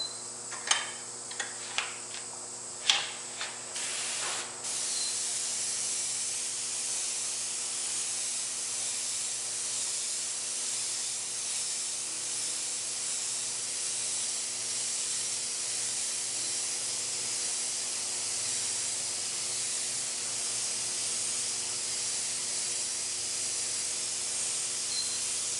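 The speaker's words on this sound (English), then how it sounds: "I'm actually going to use my bigger airbrush here to shadow in a little bit more." A larger airbrush spraying paint to shadow in detail: a few brief ticks and clicks at the start, then a steady close, continuous airy hiss that runs unbroken throughout.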